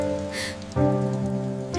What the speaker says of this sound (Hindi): बारिश और तेज हो गई।